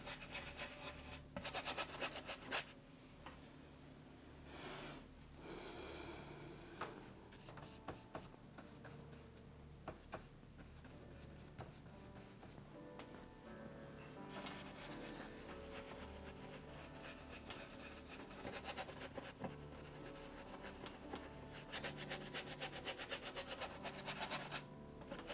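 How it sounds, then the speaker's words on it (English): A paintbrush lightly scrubbing acrylic paint onto canvas to blend it, giving a soft, close, continuous rasping rub with uneven strokes and brief pauses, quiet and alone. "And just kind of a light scrub there to blend."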